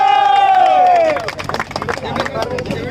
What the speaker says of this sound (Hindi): एक जोरदार ताली हो जाए